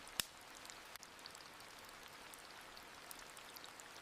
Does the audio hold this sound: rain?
yes